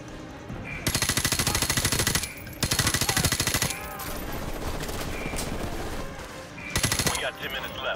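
Automatic gunfire from a match of the video game Call of Duty 4: Modern Warfare rattles in long sustained bursts, with brief gaps and a steady background of game noise between them.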